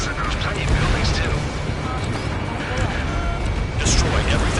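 Explosions in the Ace Combat 7 flight game as a jet strikes oil tanks, boats, small warships and buildings: a dense, loud, continuous roar of blasts and engine noise, with a sharper burst near the end.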